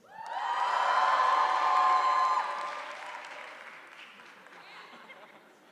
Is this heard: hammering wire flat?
no